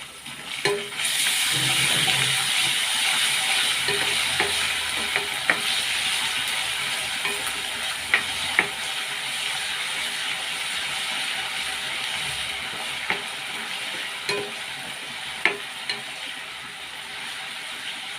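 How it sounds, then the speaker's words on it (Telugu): Ginger garlic paste fries with onions in a pan for a katla fish curry: a continuous close sizzle, with spatula scrapes and clicks landing at irregular intervals and no talk. "ఉల్లిపాయ వేగింది కదా, అల్లం వెల్లుల్లి పేస్ట్ వేసుకుందాం."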